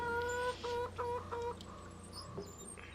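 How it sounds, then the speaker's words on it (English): Baby chickens in the farming video game Hof Bergmann give a quick series of short clucks, moderately close and fairly quiet, with steady low game ambience underneath. "Never heard baby chickens sound like adults."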